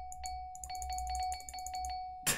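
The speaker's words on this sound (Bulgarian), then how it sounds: "Това, хора, е коледна камбанка." A Christmas bell in a Minecraft mod rings in quick, bright, repeated jingles over a steady held tone, close and clear, and ends with a short burst of noise.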